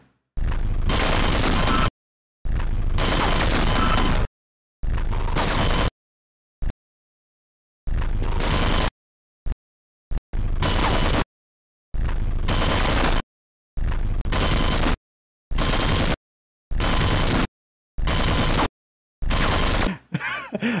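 An automated turret in Half-Life fires in repeated loud, harsh bursts of rapid gunfire, each lasting a second or two, separated by short silences.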